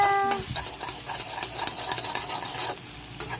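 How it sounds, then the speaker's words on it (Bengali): An egg frying in a pan for tarka, with a soft steady sizzle and repeated scraping, clinking stirs of a utensil against the pan. "তারপরে মা এটাকে ভাজতে শুরু করলো।"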